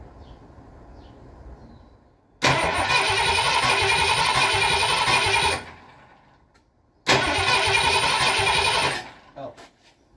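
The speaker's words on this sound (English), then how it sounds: "All right, so we've got our starter here." A starter cranks a 7.5-litre Ford 460 big block engine that sits outside a car with open headers and no fuel. Two loud, close cranking bursts of about three and two seconds are separated by a short pause, over a faint background hum.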